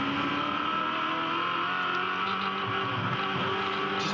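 Touring Car Masters race car at Bathurst in 2009, its engine roaring loud and close throughout, the note holding steady at full throttle with faint tyre noise underneath.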